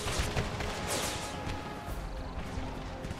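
Artillery fire in an American Civil War game, a dense rolling barrage of booms and crackling blasts overlapping continuously, loud and chaotic.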